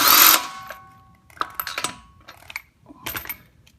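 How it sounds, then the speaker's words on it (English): An electric impact wrench loosens the wheel lug nuts on an Infiniti G35 / Nissan 350Z. A short, loud mechanical burst opens, followed by scattered metallic clicks and clinks of loose nuts close by. "I like to take my electric impact or my air-powered one and just very quickly remove all the lug nuts"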